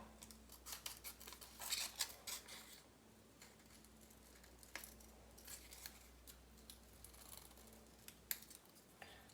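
Scissors snip through paper while cutting out a paper keyboard, a run of faint, quick crisp cuts in short bursts over a quiet room hum, no voices.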